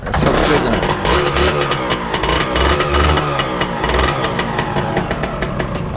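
A used Japanese CDI motorcycle engine runs close by with a rough, rapid putter, revving in a few bursts before settling back to idle.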